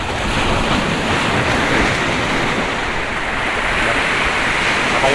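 Strong sea waves surge against the Al Mina breakwater in Abu Dhabi during bad weather, a loud, continuous roar of surf mixed with wind buffeting the microphone, with no voices.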